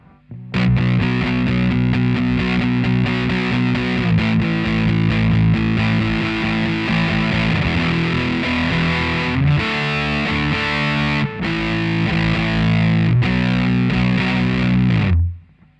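Loud, heavily distorted electric guitar power chords strummed in a driving rhythm, playing the bridge of a song, with chord changes and a brief break near the end.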